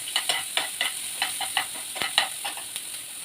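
A spoon scrapes and stirs vegetables in a hot pan, a steady run of crisp, close clinks and scrapes over continuous sizzling frying, with no voices.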